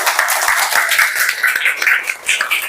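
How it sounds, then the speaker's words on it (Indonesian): Students in a classroom clap together after a group discussion, a continuous, fairly close patter of hand claps with no talking over it. "tepuk tangan untuk kita semua."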